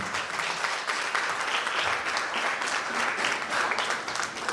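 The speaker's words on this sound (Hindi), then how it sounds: "जोरदार तालियां खुदा की" Sustained congregational applause fills a church healing meeting, a dense, steady wash of many hands clapping at even loudness with no pauses and no voices rising above it.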